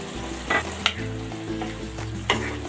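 Pork simmers in a covered pot with a continuous low bubbling and sizzle, broken by a few soft pops and clinks at close range.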